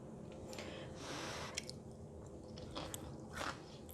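Someone eats stir-fried leek with fluffy eggs and crispy fried garlic, giving quiet, close chewing with several soft crunchy bites spread across the few seconds and no talking.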